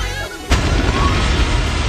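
A single loud grenade blast in a garage: a sudden heavy boom halfway through that is followed by a sustained roaring, rumbling wash of noise, all close and dominant with no talk.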